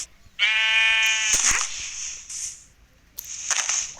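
A Minecraft sheep gives a loud, clear bleat that wavers over about a second, followed by sharp clicks and thumps of game action and a second short burst near the end.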